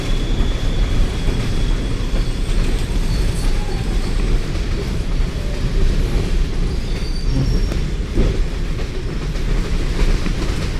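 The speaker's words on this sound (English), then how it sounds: "I mean, I used to be a friend of trains, but sometimes trains can be quite annoying." A train moves in the video game Bendy and the Dark Revival, a steady loud rumbling roar with faint rattling that holds even throughout without pause.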